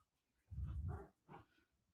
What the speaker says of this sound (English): now my dog is fighting with the cat